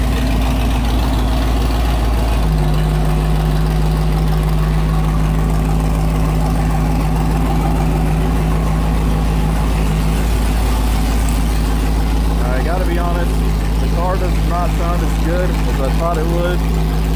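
An abandoned classic truck's engine, fitted with open headers, idles at the roadside with a steady, deep, low rumble throughout, while faint voices come in near the end.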